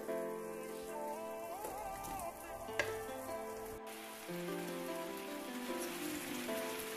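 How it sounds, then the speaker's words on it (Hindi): Paneer cubes shallow-frying in melting butter in a pan for a shahi paneer, giving a steady, close crackling sizzle that runs throughout, with faint background music. "अब हम 30 सेकेंड्स तक पनीर क्यूब्स को बटर में शैलो फ्राई करेंगे"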